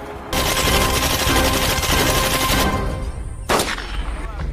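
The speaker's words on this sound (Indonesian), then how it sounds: "Jack pun keluar dengan memberondong tembakan bertubi-tubi kepada mobil petugas DIA yang mengejar mereka" Loud, rapid bursts of automatic gunfire rattling continuously for a few seconds, followed by a single sharp blast and lingering echoing noise.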